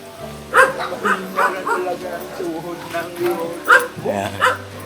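A dog barks and yips in a series of short bursts, close by, mixed with people's voices talking in the background.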